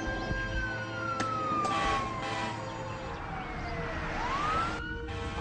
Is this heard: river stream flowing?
no